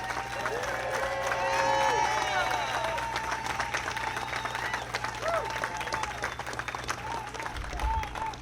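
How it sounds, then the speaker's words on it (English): An audience at a speech at a new Brooklyn health center claps steadily throughout, while a voice talks over the applause. "I'd like half the amount of applause that Peter Ward was given."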